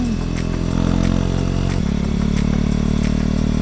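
A motorcycle riding through Japanese suburbs near Hiroshima, its engine droning loudly and steadily with a clear shift in pitch partway through.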